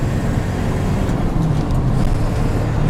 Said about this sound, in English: I'm just giving it moderate throttle. This truck actually gets up and moves really good.